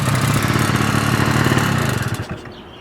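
A 1986 Honda Spree scooter's small engine runs with a close, buzzing, rapid putter that fades and drops away in the final half second.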